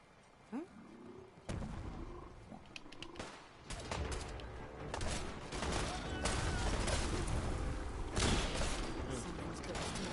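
Gunfire erupting in modded Fallout 4: a dense volley of rapid shots builds into sustained, loud firing, with shouting voices and a roar-like cry mixed in.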